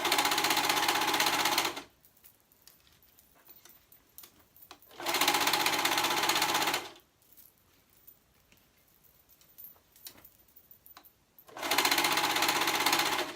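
A home sewing machine stitches through a dress skirt and its liner layers in three loud, steady bursts separated by quiet pauses, close up with no talking.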